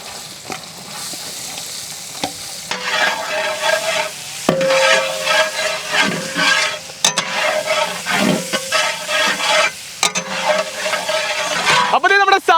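Onions fry in oil in a pan for chicken samosa filling, crackling and sizzling in bursts as they are stirred, with scraping spoon knocks between the stirs.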